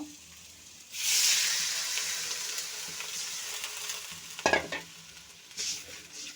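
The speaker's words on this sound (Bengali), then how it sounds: "এখন একটু জল দিয়ে দেব" Spinach curry frying in a pan with turmeric as water is poured in, setting off a loud hissing sizzle that gradually settles into steady frying, punctuated by a few sharp stirring scrapes.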